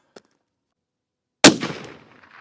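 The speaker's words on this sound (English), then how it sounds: "we're going to be shooting the Federal Fusion tipped 180 grain bullets" A CVA Cascade XT rifle in .308 Win fires a Federal Fusion tipped 180 grain bullet: one loud, sharp outdoor report with a decaying tail, preceded by a faint tick.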